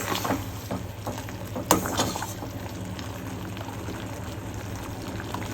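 Sugar syrup for badusha boils in a pot, a low, continuous bubbling with a couple of sharp clinks early on, fairly quiet and close.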